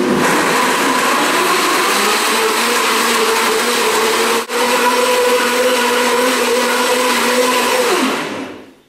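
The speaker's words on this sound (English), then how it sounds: "we'll turn on the blender. And we're going to turn it on a high speed" A blender whirs loudly at high speed in a steady, close roar for about eight seconds, then winds down and stops.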